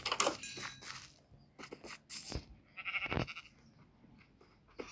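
A few short sheep bleats sound amid scattered clicks and rustles, spaced irregularly with quiet gaps between them, from a survival video game on an island.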